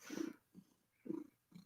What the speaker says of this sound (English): Do you hear her purring?